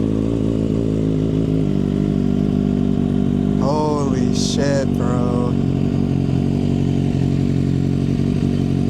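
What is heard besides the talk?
2025 Kawasaki ZX-6R with M4 Street Slayer slip-on exhaust, no baffle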